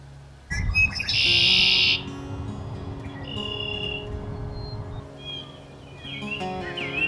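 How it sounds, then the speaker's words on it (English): Red-winged blackbirds sing a loud, buzzy trill up close in early spring in Almonte, Ontario, followed by softer whistled calls and chirps from other birds nearby. "Red-winged blackbirds are singing."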